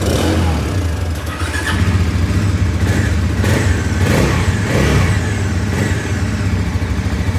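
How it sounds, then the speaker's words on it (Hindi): The 400 cc engine of a Bajaj NS 400 motorcycle runs steadily and loudly throughout, with a low, rough mechanical drone and slight surges. "NS 400 भी है जो कि 400 cc इंजन की बाइक है।"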